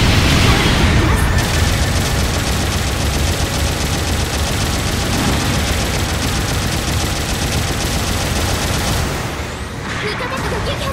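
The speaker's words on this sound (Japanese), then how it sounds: "後方部隊からの支援砲撃が来ます。" A support artillery bombardment pounds the battlefield in Gundam Battle Operation 2, a loud, continuous barrage of overlapping blasts and rattling gunfire that thins out near the end.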